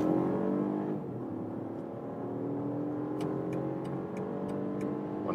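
A BMW M Sport in S shifting mode accelerating from 50 km/h, heard from the cabin as a steady engine note climbing in pitch, with a soft, regular ticking joining in later.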